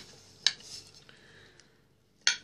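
Cutlery mixing a beet vinaigrette salad in a dish: two sharp metallic clinks with faint scraping between, close and quiet.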